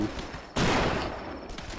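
A single loud gunshot blast in the zombie video game The Last Stand cuts in abruptly and rings out for about a second over steady background noise.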